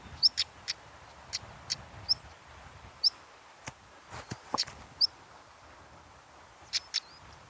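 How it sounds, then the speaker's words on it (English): A stonechat gives its alarm call outdoors: repeated short, hard ticks mixed with thin whistled notes, coming in irregular clusters over several seconds, moderately near. "That is the alarm call of a stone chat."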